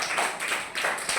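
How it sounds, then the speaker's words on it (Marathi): Children in a classroom clap briefly for a girl, a short burst of uneven claps close by, with no talk over them. "टाळ्या वाजवा तिच्यासाठी."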